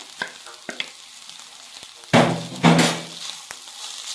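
Grated carrots dropped into a pan of softened onions and minced meat, two loud bursts of sizzling after a few light clicks of utensils, fading back to a faint fry.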